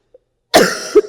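A single loud, close cough bursts out after a moment of near silence, followed by a short throaty second catch at the end.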